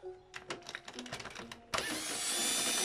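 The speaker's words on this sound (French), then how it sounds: "Ouais, elle est capricieuse la perceuse." A worn-out electric drill used for polishing scooter clutch parts, sputtering and faltering in short uneven bursts before catching and running steadily with a loud high-pitched whine, close up with no talking.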